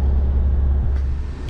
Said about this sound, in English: back in the Mahindra again. Just giving it a bit of a test drive.